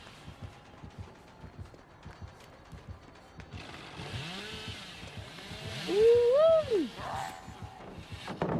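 A chainsaw revs in the video game Dead by Daylight, with rising and falling engine whine that swells loudest near the end, over busy game sounds.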